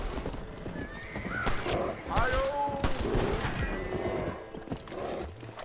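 Gunshots fired at a bear in the Red Dead Redemption western game, heard as a burst of shots mixed with horse hooves clip-clopping and a neigh, all under excited voices talking.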